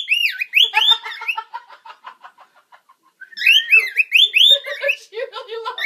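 Pet budgie and cockatiel chirping nearby indoors, bright rapid whistled chirps and warbles in two bursts with a softer stretch of chatter between them.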